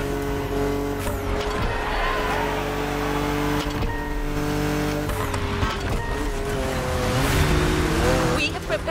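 A BMW Z4 M40i engine in the video game The Crew Motorfest revs and drones loudly throughout with shifting pitch and some tire noise, while a voice talks over it.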